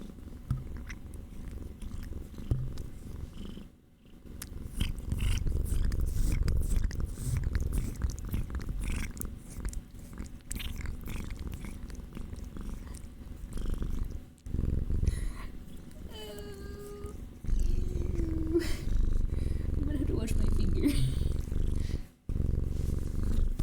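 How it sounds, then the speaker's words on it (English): A cat purrs with its mouth open while licking a person's finger, a loud continuous close-up rumble that runs almost the whole time with a few brief pauses, and no talking over it. "That's the open mouth purr I'm talking about."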